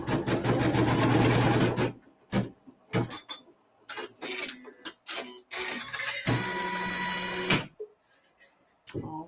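A sewing machine stitching a tack-down seam for quilting, with a steady whirring run of stitches, then short stop-start bursts and a second sustained run, close and fairly loud with quiet handling noises between.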